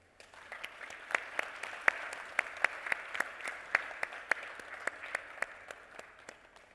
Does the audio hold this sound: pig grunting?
no